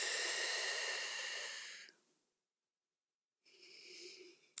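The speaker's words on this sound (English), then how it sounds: "Big deep breaths." A long, broad airy exhale during a yoga side stretch with hands walked to one side of the mat, fading to silence, then a softer breath returning near the end; close and steady, with no talking.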